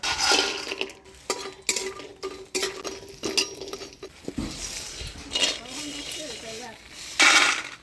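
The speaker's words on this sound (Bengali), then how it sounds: "ডালের বড়িটা ভেজে নেব।" Lentil dumplings (dal bori) frying in oil in a village kitchen, with spatula scrapes and metal clinks against the pan over a soft sizzle, and a voice speaking at times.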